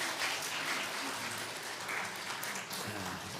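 Congregation applauding at a church pastor installation service, a continuous spread of clapping from many people in a large room, fairly soft and steady, with faint voices beneath it.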